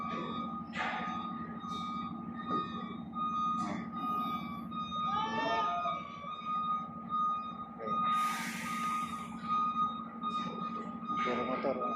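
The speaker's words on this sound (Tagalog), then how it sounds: "busy sila sa pag-loading ng truck." Trucks loading onto ships at a busy port, with engine rumble, intermittent reversing beeps, squeaks and air-brake hisses under steady background noise, while people talk nearby.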